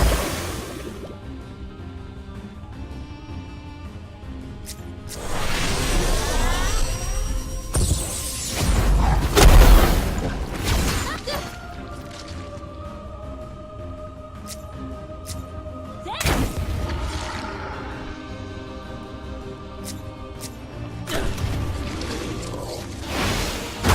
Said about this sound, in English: nice when you use that fire gun